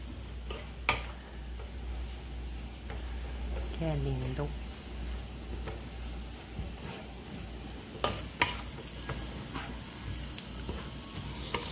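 Sautéed cabbage is stirred in a frying pan, giving a soft steady sizzle with occasional scraping ticks of the utensil, a person talking over it.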